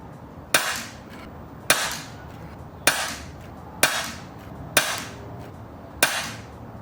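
Six sharp air-gun shots firing lead pellets with bent skirts, evenly spaced about a second apart, each a crisp crack with a short ringing tail against a quiet background.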